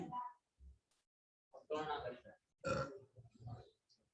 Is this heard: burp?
yes